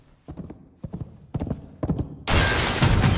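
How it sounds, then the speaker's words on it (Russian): Hooves clip-clop in four close, evenly spaced bursts from a horse in an animated comedy scene, then a loud, harsh, noisy sound bursts in and holds to the end. "Конь! Это мой конь Яматомару."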